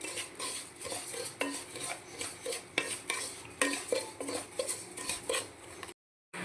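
Wheat semolina roasting in ghee for rava kesari, stirred with a spoon: steady scraping strokes against the pan in a regular rhythm, close and fairly loud, with a brief silence near the end.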